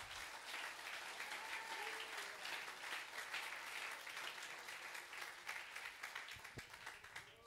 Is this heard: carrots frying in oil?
no